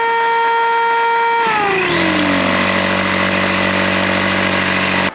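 A loud electric air pump inflating a Sea Eagle FastCat inflatable PVC boat whines steadily, its pitch dropping as it loads up toward 5 psi, then droning on evenly until it cuts off at the end.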